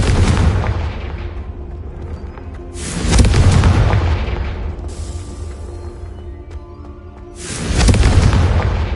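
Confringo spell explosions in Hogwarts Legacy, three loud booming blasts spaced a few seconds apart, each swelling and then fading into a rumbling tail.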